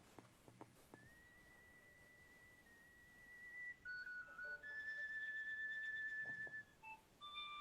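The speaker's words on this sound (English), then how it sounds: "And that's his son, Francie IV, playing the whistle" A whistle carries the melody of the Scottish folk song "Will Ye Go, Lassie Go" in an archival recording, holding long sustained high notes that step between pitches and grow louder partway through, with no voices alongside.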